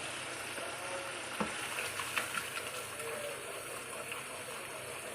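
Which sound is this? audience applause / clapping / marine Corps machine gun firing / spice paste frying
spice paste frying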